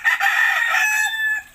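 A rooster crows loudly and close by beside a rural farmhouse ringed with chickens, a single drawn-out call of about a second and a half with no talk over it.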